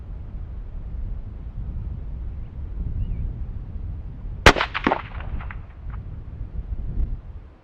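A .222 Remington rifle bullet striking a rock behind the target: one sharp report with a ringing decay, then faint distant knocks over steady outdoor wind, with no talking.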